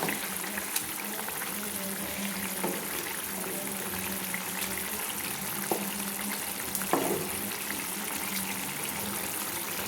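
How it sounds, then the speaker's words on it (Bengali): Pieces of catla fish being turned in a pan, a busy bubbling, watery fry with a few faint knocks of a utensil, steady and close throughout. "এইভাবে মাছগুলো নেড়ে নিচ্ছি"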